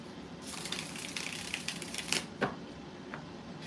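Tarot cards are shuffled by hand, giving a steady, close papery riffle with a couple of sharper slaps near the end and no voices.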